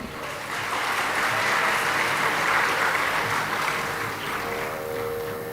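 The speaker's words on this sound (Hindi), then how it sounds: "ताली मत पीटो" An audience at a Hindi religious talk on the Braj 84 Kos pilgrimage breaks into steady, fairly loud applause that swells and fades slightly across a few seconds, with no speech over it.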